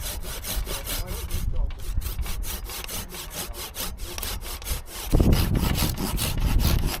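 A hand saw cuts steadily through a tree branch outdoors, its rasping back-and-forth strokes loud and close, growing rougher and heavier near the end as the branch gives way.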